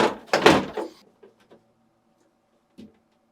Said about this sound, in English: To install the lower drawer, insert it at an angle, making sure it sits beneath the support glide rail.